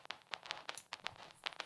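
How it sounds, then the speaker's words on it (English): Soft vinyl dust crackle from a free vinyl-emulator plugin, faint irregular clicks and pops scattered over a quiet hiss, with no music or voices. "Hear those little dust scratches"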